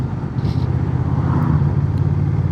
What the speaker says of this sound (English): It's got a decent note to it with the exhaust.